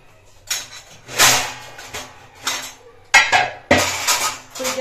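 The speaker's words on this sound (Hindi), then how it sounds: "यहाँ पे मैं सारे बर्तन निकाल के नीचे रख देती हूँ" Kitchen pots, pans and utensils being taken out and set down on a surface, a run of separate clattering metal knocks and clinks at close range, several sharp bangs toward the end, with no talk.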